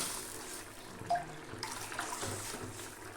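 Tamarind water pours and splashes into a pot of rasam, a short, wet gushing sound with light clatter, heard close up.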